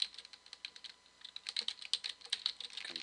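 Rapid keystrokes on a computer keyboard as a command is typed on a Windows Server 2008 Core machine, a close, irregular run of crisp clicks and taps with brief pauses, no voice.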